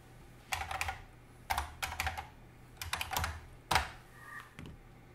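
Bursts of typing on a computer keyboard as a one-time authenticator code is entered, several quick clusters of close, crisp key presses separated by short pauses, no speech.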